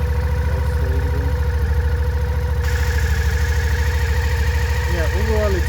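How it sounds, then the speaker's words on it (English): A Suzuki V-Strom 650 motorcycle engine idles steadily up close with an even, low rhythmic throb; a voice speaks briefly near the end. "this is how this bike sounds. Very, very smooth engine."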